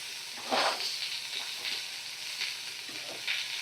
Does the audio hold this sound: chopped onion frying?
yes